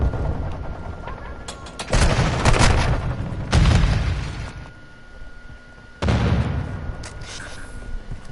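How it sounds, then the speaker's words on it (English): A stun grenade goes off in the video game Modern Warfare 2, and several loud booming bursts with rumbling tails repeat at intervals amid in-game combat noise. "Stun grenade out!"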